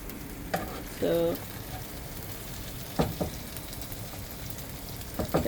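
Barracuda, a sea fish, fries with spices in a pan under a soft steady sizzle, broken by a few sharp scrapes and knocks of stirring; a brief voice cuts in once near the start.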